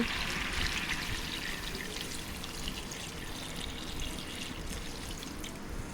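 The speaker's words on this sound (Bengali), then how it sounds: "এবার আমি দিয়ে দেবো পরিমাণ মতো জল।" Water pours steadily into a pot of chicken curry cooking over a village clay stove, a continuous splashing trickle at close range with no talk.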